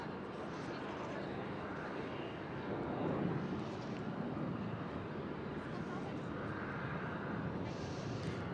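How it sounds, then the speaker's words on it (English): A Transavia Boeing 737-800 airliner coming in to land at Schiphol, heard as a steady broad jet roar that swells slightly midway and holds throughout, with background voices mixed in. "Right here we do have Peter Pan, Transavia 737 800, coming in from Salzburg."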